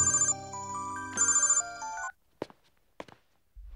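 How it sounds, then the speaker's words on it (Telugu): A phone ringtone plays two short, bright melodic bursts close by, then stops. A couple of soft thumps follow in near silence. "రై, ఆ సూర్యగడికి ఫోన్ చేయి."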